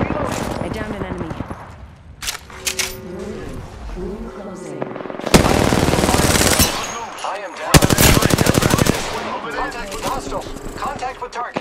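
Gunfire in the Apex Legends battle royale shooter: loud rapid automatic bursts and heavy volleys of shots, close and punchy, with in-game voice callouts between the bursts.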